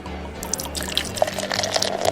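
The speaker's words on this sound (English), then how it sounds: "let me pour you some right now" Nitro-powered cold brew coffee being poured, with a steady liquid stream broken by dripping, splashing sounds against a low background hum.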